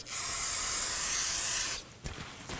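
Brake parts cleaner sprays from an aerosol can onto a rear brake hub of a 2016-2020 Kia Sorento 2.4L, one loud sustained hiss of about two seconds, then faint clicks and handling noises.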